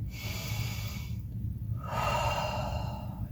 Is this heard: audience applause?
no